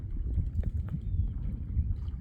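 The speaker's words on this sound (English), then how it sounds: "You can see how windy it is." Gusting wind roars and buffets the microphone in a low, steady rumble outdoors around a chicken yard, loud and continuous with no talking.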